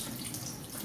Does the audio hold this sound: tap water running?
yes